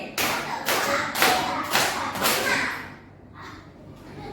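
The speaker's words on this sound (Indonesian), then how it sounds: "Tepuk 5 kali." Five loud, evenly spaced claps from a group, followed by a pause and a faint voice.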